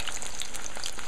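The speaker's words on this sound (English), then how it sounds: "you throw in a few at a time and let it fry" Hot oil crackles and sizzles steadily as curried smelt fry a few at a time, with bright popping spatters close by and no voices.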